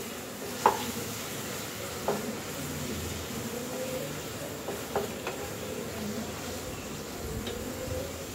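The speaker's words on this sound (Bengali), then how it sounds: "এই মশলাটা একটু ফ্রাই করতে" Spice masala fries in a pan with chicken for capsicum chicken fry, giving a soft, faint, steady sizzle with a few light stirring knocks spaced several seconds apart, and no talking.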